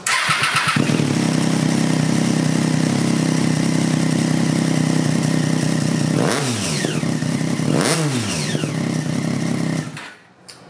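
A 2006 Triumph Daytona 675 motorcycle fitted with a Mivv Oval slip-on exhaust runs loud and close, a steady idle broken by two sharp revs that rise and fall before the engine cuts off at the end.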